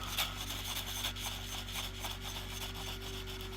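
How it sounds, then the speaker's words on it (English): A model part's edge is sanded smooth with quick, rhythmic back-and-forth rasping strokes, close and steady, with no talking. "I'll sand that edge down smooth"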